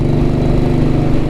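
A vintage Royal Enfield Bullet motorcycle engine running steadily, a loud, close, continuous low thumping throb with no voices.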